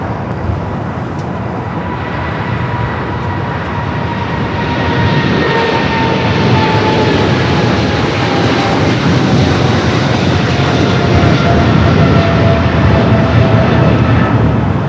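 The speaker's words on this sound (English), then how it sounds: "China Southern Cargo 777 freighter rolling down that 25 left." A China Southern Cargo Boeing 777 freighter takes off down runway 25 left at Los Angeles airport, its engine roar loud and steady and swelling as it rolls, with a whining tone sliding slowly through it.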